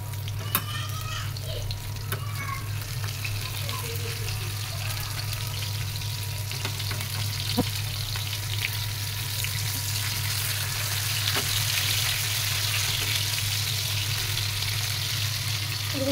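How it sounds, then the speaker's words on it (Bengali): Hilsa fish frying in hot oil in a home kitchen, a steady broad sizzle throughout with occasional sharp pops and spatters, close and alone without talk. "আগে ভাজি করে নিই ইলিশ মাছটা"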